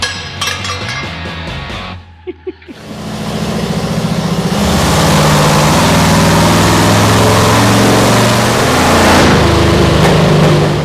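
A rear-engine mini truck with its mufflers pulled out starts up after a few sputters, then runs loud and raw. The engine holds a steady, droning idle that swells slightly toward the end.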